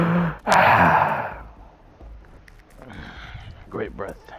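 A loud sharp inhale and heavy exhale, followed by softer, raspier breaths close to the microphone.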